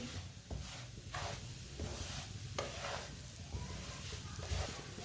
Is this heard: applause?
no